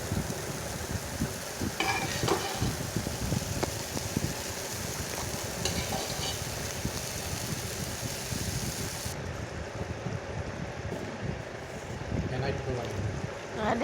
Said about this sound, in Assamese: ইয়াতে বইল কৰি ৰখা আলু বুট দাইল গোটেইখিনি ইয়াতে মছলাৰ লগত অলপ সময় ভাজি ল'ম